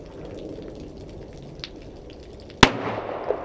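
A single sharp, loud gunshot fired at a gun range cracks out near the end, with a lingering noisy tail after a steady low background.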